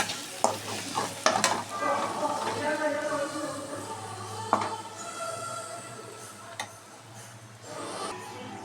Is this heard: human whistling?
no